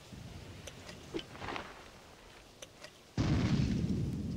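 A grenade blows up in Ghost Recon 2 on the PS2, a sudden heavy blast partway through. A dense rumbling roar continues after it, with faint scattered pops earlier.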